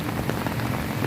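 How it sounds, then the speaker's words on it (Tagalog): Heavy rain pounds a surface in a dense, close, continuous patter during a rainy day in Surigao City. "grabe ka kusog sa ulan"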